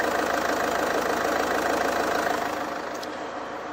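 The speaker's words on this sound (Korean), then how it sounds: "경유 연료치고 굉장히 부드러운 엔진 소음 만나보실 수가 있습니다." A Land Rover Freelander 2 diesel engine idles smoothly and steadily, a constant low rumble with a fine rhythmic pulse and no voices over it.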